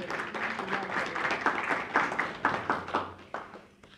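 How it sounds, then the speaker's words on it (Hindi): An audience at a poetry gathering in Willesden Green, London, breaks into applause, a scattered, moderately distant patter of many hands that swells and then thins into a few last claps. "सो उरूज के लिए मैं चाहूँगी कि आप सब तालियां बजाएं।"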